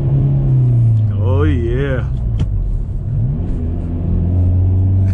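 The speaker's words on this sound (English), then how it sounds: "Let's get a rev, man." Hyundai Veloster N small coupe engine rumbles steadily close by, with a rising and falling rev and a brief sharp pop, while someone talks over it.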